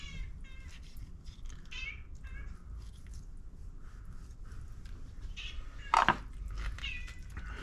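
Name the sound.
cat meowing, wanting turkey giblets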